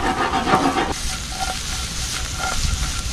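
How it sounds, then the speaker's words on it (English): Edamame with sambal sizzling in a hot pan, a steady close hiss and crackle that stays loud and continuous, with a brief louder rustle at the start. "You're gonna wanna hear that sizzle."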